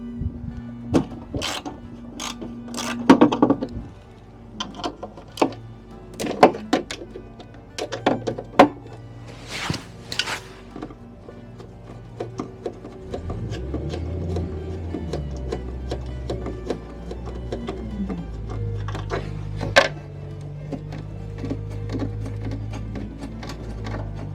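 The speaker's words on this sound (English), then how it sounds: "Right, so the final bit, I hope, is just take out these 3 bolts." Three bolts come out of a 1983 Honda Stream scooter, with close, irregular metallic clicks, taps and thunks from the tools, then a steadier low drone underneath the later handling noises.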